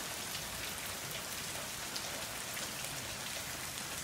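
Steady pouring rain falls outdoors in FEMA Region IX, a dense, constant hiss of drops striking surfaces close by, with no voices.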